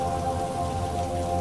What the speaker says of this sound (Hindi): तेज हवाओं के साथ मूसलाधार बारिश फिर से शुरू हो गई